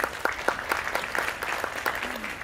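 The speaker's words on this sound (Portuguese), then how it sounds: "Aplaudo a Camila, por favor" A brief round of audience applause at a motivational talk, with clearly separate claps forming an irregular rhythm at moderate loudness and no talking over it.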